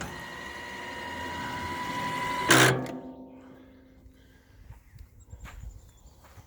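An electric actuator on a 2021 Johnny Bucket loader runs with a steady mechanical whir, ending in a brief louder burst before fading to quiet with faint clicks.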